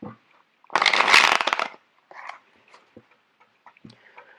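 A burst of riffling as a deck of cards is shuffled, followed by scattered soft taps and flicks of cards being laid out.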